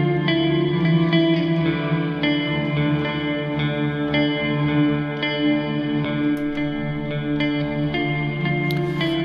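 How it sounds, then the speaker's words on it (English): A sustained, layered guitar loop on an Elektron Octatrack, washed in reverb, steady and fairly loud, with chiming notes ringing over a dense, droning bed and no voices. "here's my loop. It has already some effects applied, just some reverb"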